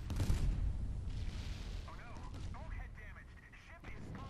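Ship gunfire in the naval video game Steel Ocean, a burst of loud booming shots at the start followed by continued rumbling and scattered impacts, with a voice talking over it.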